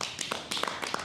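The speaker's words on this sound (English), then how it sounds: "This clap is for everybody." Hands clapping during an escrima training session, several quick sharp claps and taps in an uneven burst, fairly close.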